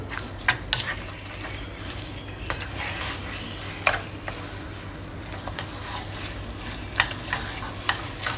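Glutinous rice dough stirred with chopsticks in a pan, a steady soft sizzle under sticky scraping and occasional sharp taps of chopsticks against the pan, close and continuous.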